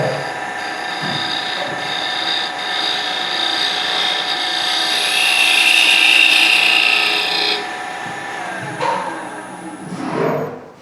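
A skew chisel cuts on a wood lathe during a finishing pass, a steady raspy whir of spinning wood and shaving that holds for several seconds, then stops, followed by a few brief knocks and rubs nearby.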